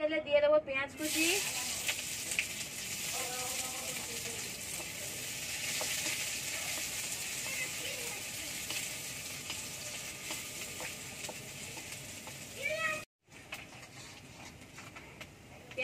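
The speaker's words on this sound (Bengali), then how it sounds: "তেলে দিয়ে দেবো পেঁয়াজ কুচি," Chopped onion frying in hot oil makes a strong, steady sizzle after a brief moment of tonal sound at the start. Faint intermittent voices sit under it, and a short break comes near the end.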